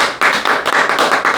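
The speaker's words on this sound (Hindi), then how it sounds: "क्लैपिंग।" A short burst of hand clapping, several quick claps in an irregular run, loud and close with no talking.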